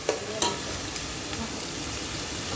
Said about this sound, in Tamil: பிரியாணி மசாலா அதையும் போட்டு நல்லா கிண்டி விட்டுருக்கோம்